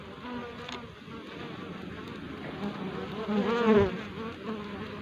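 Honey bees buzz around hive boxes, a steady close swarm hum with individual bees droning louder as they pass near.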